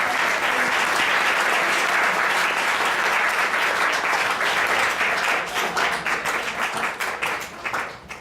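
Sustained applause from an audience at a high school poetry contest awards event, dense and steady clapping filling the room before thinning into scattered claps toward the end.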